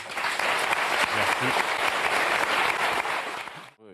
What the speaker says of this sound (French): Je vous demande de vous applaudir tous les trois.